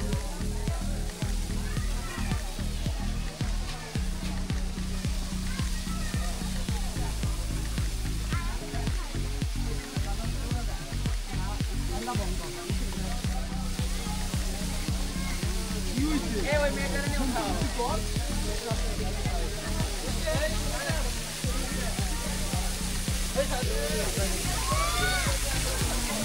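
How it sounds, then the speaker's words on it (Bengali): Steady roaring rush of a waterfall at Himchhari fills the scene, with a crowd's chatter and occasional shouts mixed in throughout. "ওই তো সামনেই অনিন্দ সুন্দর ঝর্ণাটি।"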